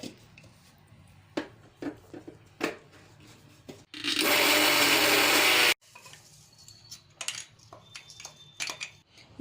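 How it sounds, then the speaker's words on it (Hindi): A mixer grinder whirs loudly for a couple of seconds, coarsely grinding sesame seeds, between quieter clinks and scrapes of kitchen handling. "जब तक हम इस तिल को मिक्सी में हल्का सा दरदरा पीस लेंगे"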